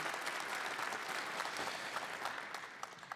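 An audience at a live candidates' debate in Sydney-Glace Bay claps in sustained, dense applause that stays steady and then thins slightly toward the end.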